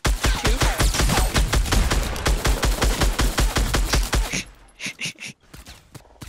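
Silenced pistol fire in a Fortnite Battle Royale squads match: a dense, rapid run of loud gunshots for about four seconds, then a few sparse, isolated shots trailing off.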